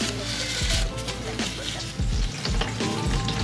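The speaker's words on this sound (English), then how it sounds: "Or the oil pan is draining there." Engine oil drains from the oil pan of a VW Atlas Cross Sport in a steady, loud, hissing stream that splashes into a catch pan, with a few faint knocks underneath.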